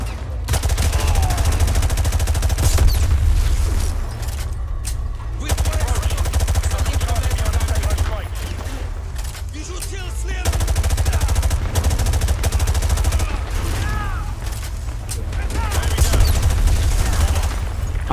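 Sustained automatic gunfire in Call of Duty Modern Warfare 2 Remastered fires in long, loud, dense bursts with brief pauses. Short breaks come around the five and ten second marks before the shooting resumes.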